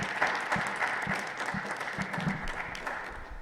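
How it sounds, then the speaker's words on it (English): Warm, continuous applause from an audience at a medical resident research symposium, steady and fairly close for a few seconds, with some voices beneath. "So let's have a round of applause."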